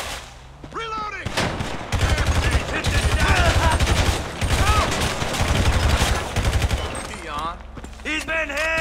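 Dense automatic gunfire in GTA V on PS5, long loud rapid bursts of shots running through most of the stretch, with game characters shouting between and over the volleys.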